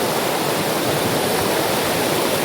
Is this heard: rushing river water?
yes